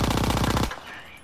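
Rapid automatic fire from a grease gun in the Call of Duty WW2 video game, a loud steady burst of shots lasting well over half a second, then cutting off into a quieter tail of game ambience.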